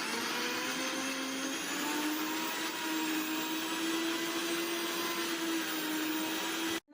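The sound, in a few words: mixer grinding roasted coconut paste with water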